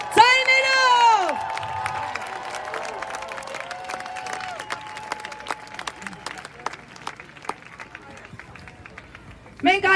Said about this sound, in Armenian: ողջունում ենք, ծափողջուններով, ձայներով։